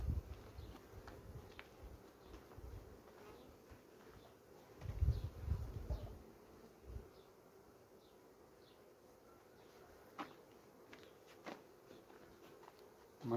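Honey bees buzzing around a beehive during varroa treatment, a faint steady hum with a few soft thumps and footstep-like knocks, no talking.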